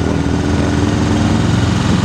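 A car engine being revved during a battery voltage check, running steadily and loudly up close for the whole stretch, with no talk over it.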